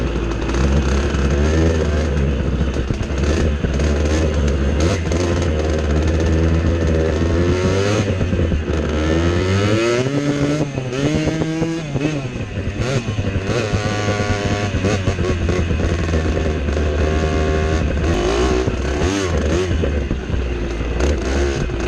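A 1987 Kawasaki KDX 80 two-stroke dirt bike engine runs loud and close throughout, revving up and down with rising and falling pitch sweeps while riding a dirt trail.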